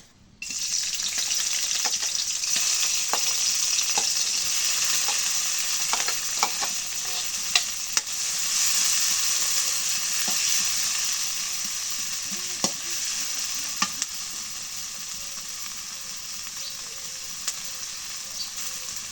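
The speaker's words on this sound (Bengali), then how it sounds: "পেঁয়াজ মরিচ রসুন দিই" Onion, chili and garlic frying in oil in a pan, a loud, steady sizzle that starts abruptly and runs on with scattered clicks and scrapes of stirring, close by with no voices.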